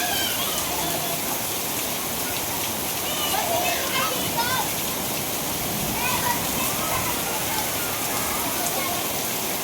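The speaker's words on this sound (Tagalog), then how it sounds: "Lakas ng ulan." Heavy rain pours down in a dense, continuous hiss and patter of drops hitting surfaces, loud and close throughout, with voices talking in places beneath it.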